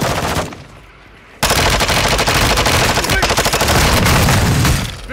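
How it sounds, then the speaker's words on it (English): Loud, close rapid automatic gunfire in Call of Duty: Modern Warfare II, with sustained bursts after a brief lull, with heavy game audio filling the soundscape. "Oh, shooting at me."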